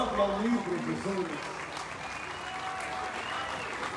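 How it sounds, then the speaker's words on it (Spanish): An audience at a cumbia concert in Kalkiní, Campeche claps for the performer, a steady wash of clapping for a few seconds that tapers off, with a voice heard over it at the start. "se van a aplaudir, profesor"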